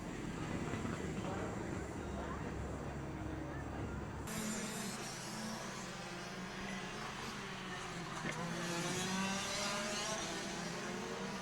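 Rotax DD2 racing karts run on track during qualifying at the 2023 SARMC Nationals, a continuous engine drone with passing whine that shifts abruptly partway through and carries on steadily.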